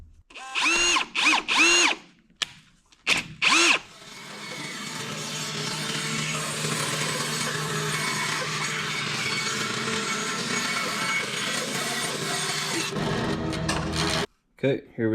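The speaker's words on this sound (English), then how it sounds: "let's go to the bandsaw, cut this up into a bowl blank" Bandsaw cutting a chunk of wood into a round bowl blank: a loud, steady whine that holds for about ten seconds, preceded by short talking and some bumps, then fading to quiet.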